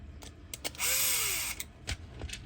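A Bosch drill tightens grabber mount bolts in a single short whirring burst of about a second, close and fairly loud, framed by a few clicks and handling taps.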